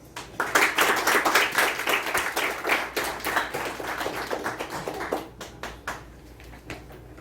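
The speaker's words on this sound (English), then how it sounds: "Please give a round of applause." Audience applause at a youth leadership programme gathering, a burst of many hands clapping close and lively, gradually thinning into scattered claps before fading out.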